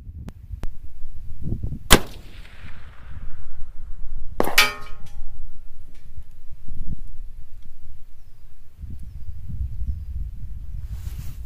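A .308 Winchester rifle fires at a target 1800 yards away, with two sharp, loud reports a couple of seconds apart over steady outdoor background noise and no distant impact clearly heard.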